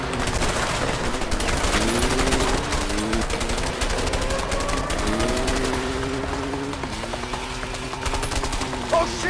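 Sustained gunfire in the video game A Way Out, dense rapid bursts of shots over a droning engine tone, with voices shouting over the shooting throughout.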